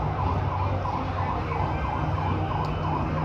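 An ambulance siren wails steadily and loudly at a harbour dock, its repeating rising-and-falling tone running unbroken over a dense rumble of nearby engine and traffic noise.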